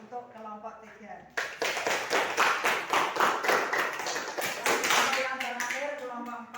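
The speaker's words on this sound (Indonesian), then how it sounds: "Beri tepuk tangan untuk kelompok 3." A classroom group of students applauds for the third presenting group, steady dense clapping from many hands rising abruptly and sustaining for several seconds, with faint voices underneath before it starts.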